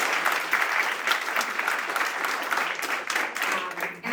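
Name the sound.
applause for presenters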